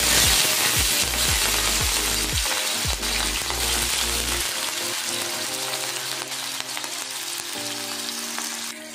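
Prawns frying in hot oil in a wok, a loud dense sizzle that bursts sharply at first with crackling pops, then settles into a steady hiss that slowly fades.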